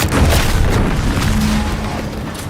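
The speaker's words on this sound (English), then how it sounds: "What's that? An explosion?" An explosion in the video game The Outer Worlds 2, a loud, sustained rumbling boom with dense low-end roar lasting a couple of seconds, slowly easing off.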